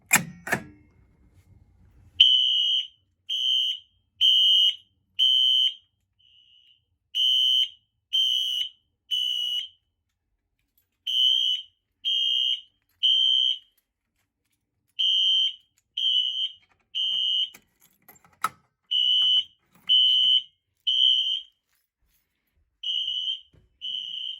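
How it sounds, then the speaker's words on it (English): A Wheelock fire alarm on a Fire-Lite MS-4 system sounds after a pull station is activated, a sharp clack followed by loud, piercing electronic beeps repeating in steady groups of three to four with short gaps between. "why not we go pull the alarm and start the activation here"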